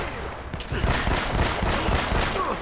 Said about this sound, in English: Where they shooting me from?